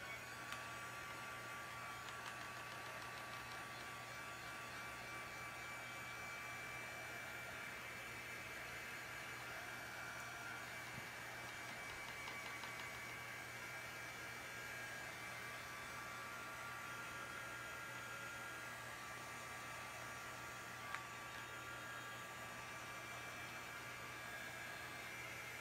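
A hair dryer runs steadily and continuously at close range to dry freshly painted wooden décor pieces, a constant whirring hum with no breaks or talk.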